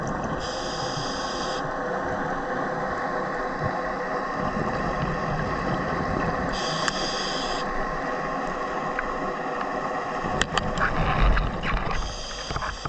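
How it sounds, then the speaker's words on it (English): A constant low engine rumble of a large cruise ship anchored outside a Guernsey harbour, heard underwater, droning steadily beneath hissing water noise, with a brief burst of clicks and bubbles near the end. "that's a huge cruise ship that's come up from the south to anchor outside the harbour"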